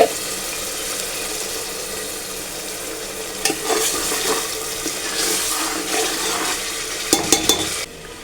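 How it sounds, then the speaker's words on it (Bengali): Onion, garlic and ginger paste sauté in a pan with a steady sizzle, interrupted by scraping stirs and a few sharp clanks of the spoon against the metal. "পেঁয়াজ রসুন আদা এবং সাথে হালকা একটু পেস্ট আছে এগুলো কষিয়ে নিলাম"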